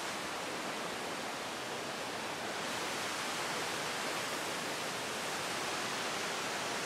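Water in a forest stream flows steadily, giving a dense, even rushing hiss that holds without a break throughout.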